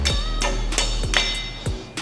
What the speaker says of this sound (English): take your trusty hammer, you're gonna smack that number 19